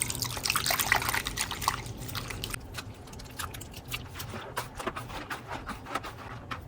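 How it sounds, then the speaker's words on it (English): Water runs and splashes while hair is shampooed, a steady close rush at first that drops into softer trickling and dripping patters. "We'll shampoo it until the water runs clear."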